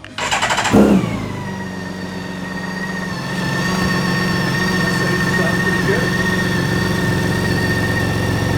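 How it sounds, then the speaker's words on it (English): A BMW K1600B motorcycle engine fires up with a short starter burst, then settles into a steady, smooth idle close by that rises slightly partway through. A voice speaks over the engine at times. "I'm going to give it a couple revs just so you can hear how it sounds."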